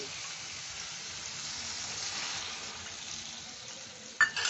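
Masala paste frying in oil with water just added gives a steady, close sizzle for several seconds, ending in a couple of sharp clinks and scrapes of a spoon stirring the pan.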